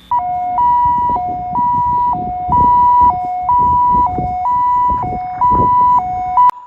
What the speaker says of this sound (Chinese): 远处的救护车声响传了过来